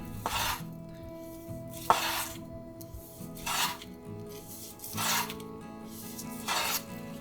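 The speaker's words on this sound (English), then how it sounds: "So when we're cutting the carrot, what we want is to always, we're gonna cut at an angle, so we get longer strips." A knife slices through a carrot at an angle into long thin strips, five or six crisp chopping strokes spaced a second or so apart against a board, close and clear over faint background hum.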